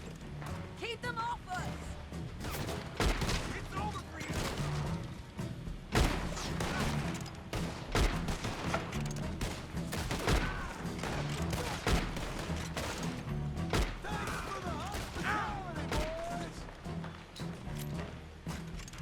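Bursts of rapid gunfire crackle repeatedly in the video game Red Dead Redemption 2 alongside overlapping voices, with booms and action noise filling the background.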